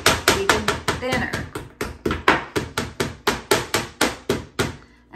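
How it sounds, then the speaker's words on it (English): Wooden hammer pounding thin-sliced meat for carne asada in a home kitchen, a steady run of about twenty sharp, evenly spaced thuds, loud and close, with no talking over them. "You take a wooden hammer and you pound it even thinner."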